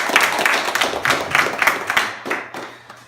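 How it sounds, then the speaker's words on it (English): Small group clapping for an absent voted-out contestant at a Survivor reunion, close rhythmic claps in uneven bursts that thin out and stop after a few seconds. "let's give her a round of applause"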